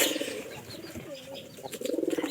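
Pigeons in a loft coo in soft, low, rolling calls at close range, a few overlapping phrases repeating over roughly two seconds with no speech.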